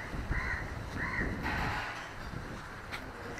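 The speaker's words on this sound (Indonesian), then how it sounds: "kayak burung gitu" A bird caws a few times in harsh, repeated calls, moderately distant, over steady background noise, in the Maldives.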